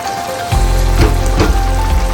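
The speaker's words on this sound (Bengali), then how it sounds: "এটাকে আমরা লো ফ্লেমে কষাবো যাতে মাংসটা লেগে না যায়।" Meat sautéing in a pan over a low flame, a close, steady sizzle that starts abruptly and continues evenly with light crackles throughout.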